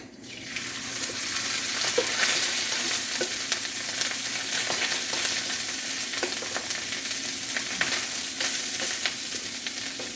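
Leftover rice goes into a pot of Jamaican-style ackee and saltfish, with a steady, loud sizzle and frying, and the scrape and clatter of stirring throughout.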